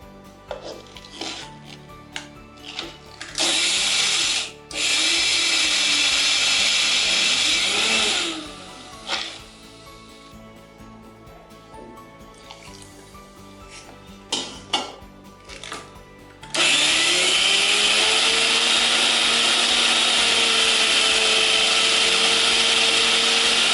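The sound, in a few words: mixer grinder grinding soaked rice and lentils into batter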